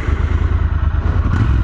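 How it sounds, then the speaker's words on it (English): A 2024 Triumph Scrambler 1200X engine runs close and loud, with a deep, rhythmic, throbbing idle and no speech. "let's pull the clutch in, make sure the kickstand's up, and give it a start"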